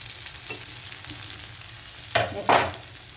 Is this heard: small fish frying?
yes